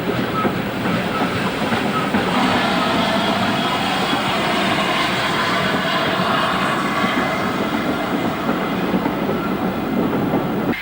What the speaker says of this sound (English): former Great Western 280 tank number 4277 approaches the station